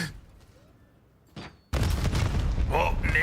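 Explosive blasts from grenades in Call of Duty, heard during a professional league qualifier match: a short burst, then a sudden loud, dense crash of booms and gunfire that continues, with voices over it.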